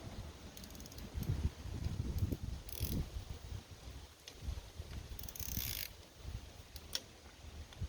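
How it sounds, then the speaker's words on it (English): A ratchet with a 5/8 spark plug socket breaking spark plugs loose on a 2019 VW GLI 2.0T engine, faint clicking and mechanical turning noises at close range with bursts of handling sounds. "Next, remove your spark plugs. This is a 5/8"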